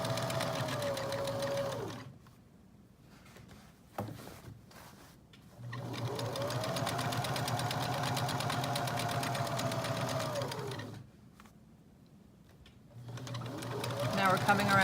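A sewing machine stitches around fabric in long whirring runs, stopping twice in between, loud and close with a voice talking over it.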